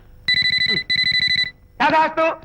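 In a Telugu comedy film scene, an old-style telephone bell rings in two sharp, buzzing bursts with a short gap between them, close and loud, and then a voice breaks in.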